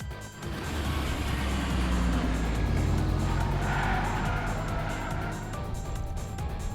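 A car races along in the game Kuro no Kiseki with a steady, loud engine roar and tire noise that stays continuous throughout, no talking over it.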